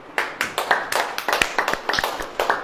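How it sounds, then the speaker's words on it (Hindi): A church congregation claps hands at a sermon, a loose and uneven run of sharp claps coming in quick groups, moderately loud and fairly close, with no voices over them. "ताली बजाएंगे?"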